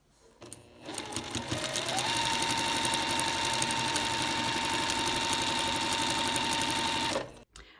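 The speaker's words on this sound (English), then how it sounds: "Let's go to the machine and we're going to sew it." A sewing machine stitches a paper-pieced quilt block, starting up and running at a steady, fast, close mechanical hum and rattle for several seconds before stopping abruptly.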